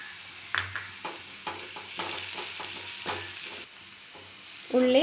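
Onions sautéing in a pan with a pinch of salt, a steady soft sizzle broken by repeated scraping stirs of a utensil, close by with no talk.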